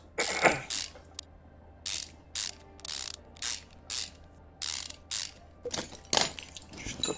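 Ratchet clicks in Car Mechanic Simulator as car parts are tightened: about ten short, sharp bursts of clicking in a steady rhythm, close and clear over a quiet background with no talk.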